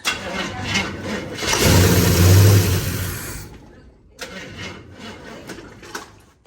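A 1968 Chevrolet C10 engine fed starting fluid cranks and catches, surging loudly and roughly for a couple of seconds before dying out, then a lower uneven running or cranking sound resumes near the end.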